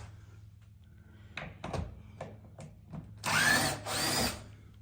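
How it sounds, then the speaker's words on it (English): A power drill boring screw holes through a door on a small boarded-up tiny house build, a few short bursts followed by two louder sustained whirs up close, with no talk. "So I had to bore those holes out before I could put the screws in."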